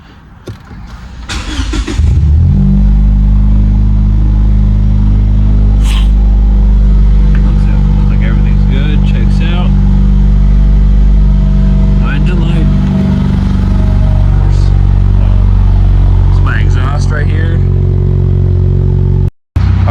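A Lexus IS200t engine, just fitted with a new valve cover gasket and spark plugs, cranks and catches, then settles into a steady, loud idle that runs on, with a few brief background noises over the rumble.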